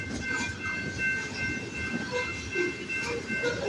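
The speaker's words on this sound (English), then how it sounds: "loaded grain train for KCS 4681 leading, CP 7016 trailing, and DPU in the back." Loaded westbound grain freight train with a KCS locomotive leading, a CP unit trailing and a distributed power unit at the rear, rolling past as a steady, continuous rumble with faint wheel clatter and squeal throughout.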